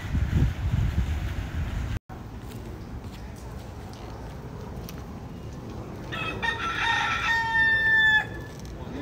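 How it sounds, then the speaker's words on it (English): Rooster crowing near the port at Key West, one long cock-a-doodle-doo rising over a constant low engine and water rumble, with wind noise before it. "Oh my gosh, there's a chicken!"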